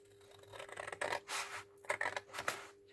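Scissors snip and rub through paper on an altered Wizard of Oz book cover, a few short crisp cutting strokes close up with quiet pauses between them and no talking.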